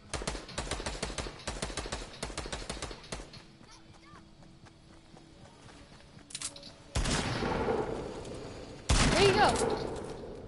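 Video game gunfire in a shooter: rapid volleys of shots early on, then quieter stretches and two loud bursts near the end, with players talking over the action.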